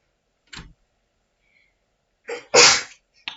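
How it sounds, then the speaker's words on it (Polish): A single loud sneeze from a person, preceded by a soft sniff-like sound and followed by a brief short click, all in an otherwise quiet room. "Sorry za kichnięcie."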